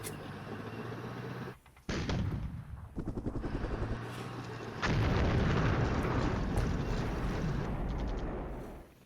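An airstrike in a NATO wargame sets off heavy, rumbling explosions, first in rapid repeated blasts and then in a sustained roaring barrage that fills the clip.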